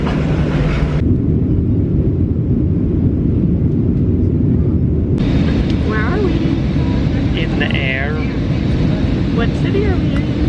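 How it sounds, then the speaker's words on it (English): Steady loud cabin drone of an airliner in flight fills the whole stretch, with people talking over it in the second half. "We're on a plane and we're flying around."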